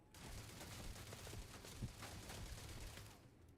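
Automated turret fire in the Starfield video game, a dense, steady fusillade of rapid shots sounding from a moderate distance, with one sharper impact partway through and no talking.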